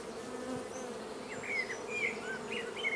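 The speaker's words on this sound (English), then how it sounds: "And a whole lot of loose bees." Honeybees swarm around an opened beehive frame on a farm, a steady close drone with higher individual wingbeat whines weaving through it.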